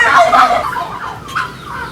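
Turkeys on a farm gobble loudly nearby in a quick burst of warbling calls, followed by a few softer gobbles trailing off.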